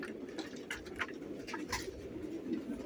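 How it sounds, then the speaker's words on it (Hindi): Rampuri pigeons of a home-bred line, carrying Chanda Khani, Shekhon wale and Sialkoti blood, coo softly and steadily close by, their low murmurs blending into a constant rustling background with no voices. "ये मेरे अपने बने हुए कबूतर हैं"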